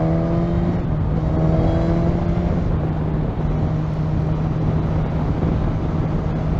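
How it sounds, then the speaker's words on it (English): A 2020 Suzuki GSX-S1000 motorcycle's engine drones with throaty airbox induction noise while cruising in sixth gear at modest revs, a steady humming tone with a slight rise and fall, close and continuous with no talk. "The induction noise sounds quite nice."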